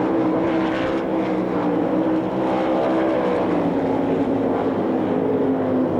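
World of Outlaws sprint cars racing a heat at Knoxville Raceway in 1999, a loud continuous massed engine roar holding steady throughout with no talk.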